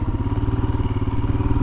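A Royal Enfield Himalayan motorcycle engine thumps at a steady, rapid idle-like beat, loud and close with a clattery mechanical edge and no voices.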